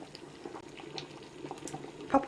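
Thick blueberry jam bubbling and popping softly as it boils, a steady low simmer with scattered small bursts and one louder pop near the end.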